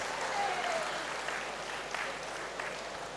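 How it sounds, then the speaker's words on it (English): Graduation audience in a great hall claps steadily at a congregation ceremony, a dense, even roar of many hands that begins at full strength and tapers slightly over a few seconds, with no voices over it. "Just get up and clap for them."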